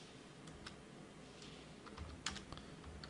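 Faint keystrokes on a computer keyboard, a sparse, irregular patter of soft taps over a steady background hum, with no one talking.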